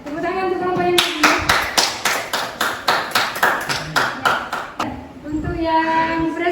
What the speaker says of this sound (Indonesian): tepuk tangan untuk kelompok yang kedua